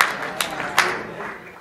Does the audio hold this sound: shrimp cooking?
no